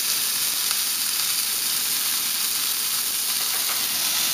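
Wild pork steak searing in a very hot frying pan, giving a steady, loud, dense sizzle with hissing spatter that holds evenly throughout, no voices over it.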